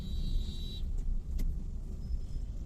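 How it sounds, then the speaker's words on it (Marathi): Old Toyota Qualis driving along a rural road in Maharashtra, heard as a steady low engine and road rumble with a faint brief whine, no one speaking. "ही आहे टोयोटाची कॉलिस जुन्या काळातलं वाहन आणि आजही रस्त्यावर धावतंय"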